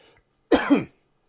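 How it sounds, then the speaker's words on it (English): A single short cough, sharp and close, standing alone in near silence. "Excuse me as I pause to cough."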